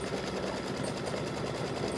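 An embroidery machine stitches a diamond-shaped quilting design on an in-the-hoop mug rug side panel, giving a steady, fast, close mechanical whir with no gaps and no voices over it.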